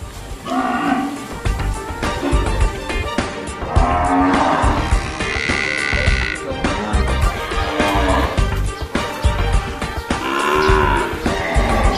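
Cattle on a fattening farm low loudly and repeatedly, with several long overlapping calls close by, some deep and some higher pitched, over a busy barn background.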